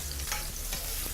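Onions sweating with garlic in a pan, a loud continuous close-up sizzle with brief stirring scrapes and no talking.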